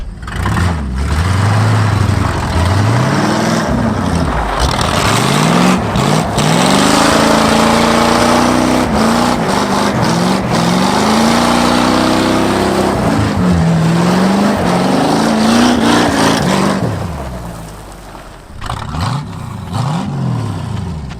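A worn-out barn-find Lincoln Continental, stuck in first gear, revs hard through a donut, its loud engine note rising and falling in repeated sweeps for about twenty seconds with no talking.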